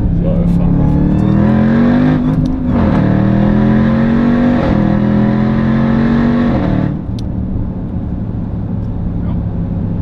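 A Jeep Grand Cherokee Trackhawk, a 710 PS SUV, revs hard under acceleration, its engine note rising in repeated climbs and dropping back after about seven seconds, heard from inside the cabin with a steady loud drone.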